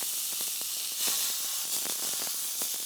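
93% lean ground beef browning in a skillet, a steady close sizzle and hiss with small pops and crackles throughout, no speech.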